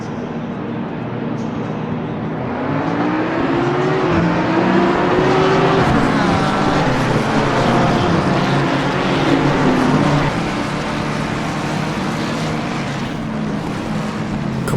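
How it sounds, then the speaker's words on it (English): A pack of race cars launching at the start at Suzuka in a racing video game, engines roaring together with rising whining pitch sweeps as they accelerate, loud and continuous throughout. "I hope you enjoy the sound of the cars as the lights go green."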